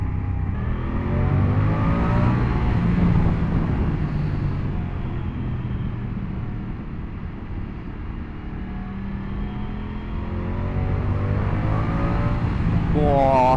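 A Moto Guzzi V100 Mandello S motorcycle engine drones steadily while riding, a continuous low rumble with a rising rev near the end, loud and close throughout.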